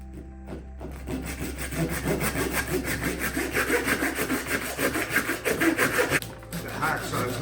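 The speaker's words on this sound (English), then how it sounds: "The hacksaw is a little bit too small, so it's hard to get a good reach." A small hacksaw cutting through pig carcass ribs during butchering, repeated rasping back-and-forth strokes in a steady rhythm, close and clear, growing stronger toward the end.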